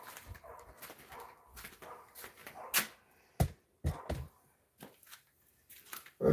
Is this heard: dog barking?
yes